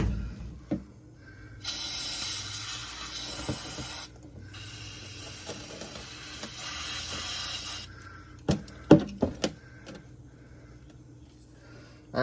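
Aerosol can spraying onto the bolts of a Chevy S-10 rear suspension during a drop block install, heard as two long hissing bursts, close and steady, followed by a few sharp clanks of tools.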